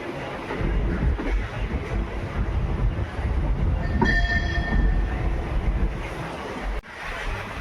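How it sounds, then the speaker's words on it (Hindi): Passenger train rolling near Bikaner Junction, a loud continuous rumble of wheels and carriages close by, with a brief tonal horn-like squeal around the middle and a sharp click near the end. "और उसके बाद ही ट्रेन स्पीड पकड़ती है।"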